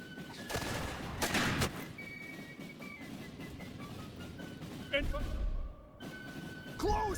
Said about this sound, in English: Make them climb this hill under gunfire.